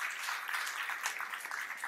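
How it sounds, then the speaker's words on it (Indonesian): A church congregation claps together, a brief dense burst of many hands heard from a short distance, steady throughout with no other sound on top. "Beri tepuk tangan buat Tuhan."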